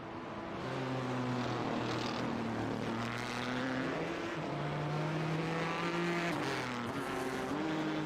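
Race cars in the iRacing sim race at Bathurst drone steadily with engine notes rising and falling as they cruise toward the checkered flag, a continuous layered roar with no voices.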